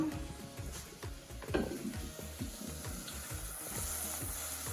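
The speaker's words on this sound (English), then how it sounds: "Just going to drain out the water from the pasta right here." Water pours and splashes steadily into a sink as cooked pasta is drained, with a rushing, gurgling stream and a few clattering knocks, close by and fairly constant.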